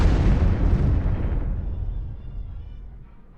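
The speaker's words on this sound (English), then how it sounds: "Okay, so now we bomb." A bombing strike in the card strategy game KARDS: one heavy, booming explosion with a deep rumble that fades steadily over a few seconds, loud and alone.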